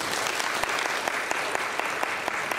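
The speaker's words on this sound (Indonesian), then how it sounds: "Tepuk tangan dulu." Steady, dense audience applause at a talk, loud and continuous throughout with a few sharper claps standing out, no voices over it.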